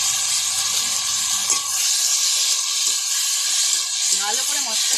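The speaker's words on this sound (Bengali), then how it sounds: "এবারে আমি দিয়ে দেবো আলু বেগুন ভেজে রেখেছিলাম।" Fried potato and eggplant going into a sizzling spice paste in a pan; a steady, loud hiss of frying close by, while someone talks over it at times.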